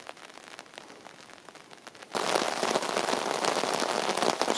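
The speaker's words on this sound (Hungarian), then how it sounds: "Most egész rázendített az eső." Heavy rain falls on bushes and an umbrella outdoors in Székelyfölđ, a light patter that suddenly surges into a loud, dense, continuous downpour drumming close overhead.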